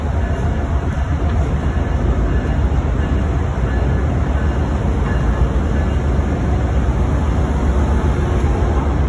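Loud, continuous rumble and clatter of an Amtrak Silver Star passenger train running on tracks, heard up close as a dense, unbroken roar with no talk.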